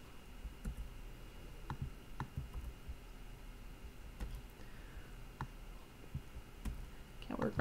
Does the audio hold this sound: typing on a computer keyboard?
yes